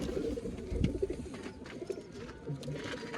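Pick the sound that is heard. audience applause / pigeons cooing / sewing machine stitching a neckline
pigeons cooing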